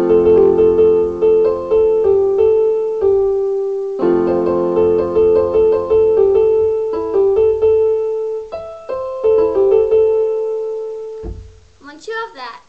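Solo piano plays a melodic line from a song, single notes over sustained low chords in a steady, moderate rhythm, close and clear, with a brief higher flourish near the end.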